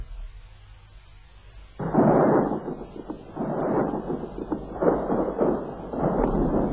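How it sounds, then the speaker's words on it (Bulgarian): Thunder from an approaching summer storm rolls in after a quiet start, with long deep rumbles that swell and fade in waves and a thin high tone running underneath. "Гръм и мълни, лятна буря иде."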